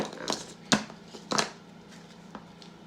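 Tarot confirmation cards being handled and shuffled, giving a few sharp close slaps and riffles among soft rustling, with a faint background hum.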